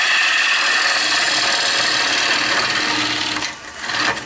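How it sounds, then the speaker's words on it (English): Wood spinning on a lathe while the hard centre of a bowl is hollowed out, giving a steady loud rasping, scraping grind that runs continuously and dips briefly near the end before resuming. "That's just like using a drill, except your wood's turning instead of your drill's turning."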